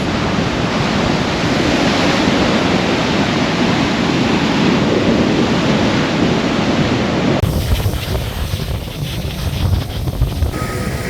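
Rough sea surf pounds the shore at a Barcelona beach, a loud continuous roar of breaking waves with heavy wind buffeting the microphone. Midway the roar thins to a softer, steadier wash.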